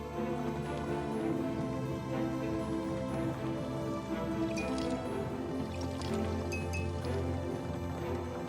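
Water drips and trickles steadily while being collected to fill a statue in a video game, small wet plops and squishes repeating over a constant low musical bed, with no talking.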